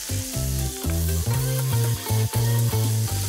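Potatoes, onions, garlic and chopped tomatoes sizzling in a pan for potato chili, a steady close frying hiss over a low rhythmic background hum, no voices.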